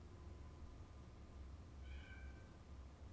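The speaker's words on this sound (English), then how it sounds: "George, can you hear my cat meowing in the background?" A house cat meows once, faint and distant in the background of a quiet room over a steady low hum, with no talk.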